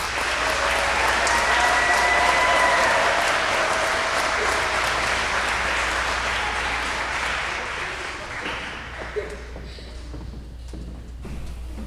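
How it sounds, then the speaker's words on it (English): Audience applause at an awards ceremony, a loud sustained wash of many hands clapping that gradually thins and tapers off into scattered claps. "let's give one huge round of applause to all of our awardees"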